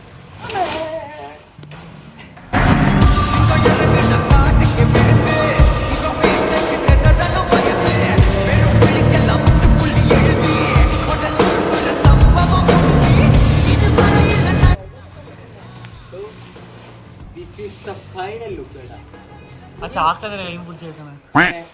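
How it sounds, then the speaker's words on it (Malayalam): A modified KTM Duke motorcycle with its exhaust stripped runs loud and close for about twelve seconds, a dense rasping roar, then cuts out, leaving quieter background sounds and voices. "പിന്നെ ഒന്ന് എക്സോസ്റ്റ് ഊരി ഒന്ന് പൊട്ടിച്ച് ഓടിക്കാം"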